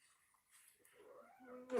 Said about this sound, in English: I think she meowed at y'all